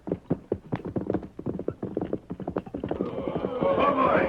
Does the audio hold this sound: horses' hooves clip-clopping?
yes